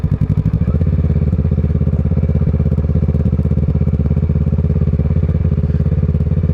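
A Kawasaki ER6N road motorcycle ridden off-road gives a close, loud, steady parallel-twin engine drone with a fast rhythmic pulse that holds throughout, with no talk.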